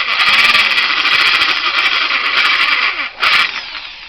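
A drill bores and reams a secondary hole, giving a loud continuous high whir with slight pitch wavering, a brief dip near the end, then a short final burst, heard close up with no speech.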